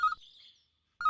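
A telephone rings with a short electronic trill, fades into silence, then starts trilling again, close and fairly clear with no talking.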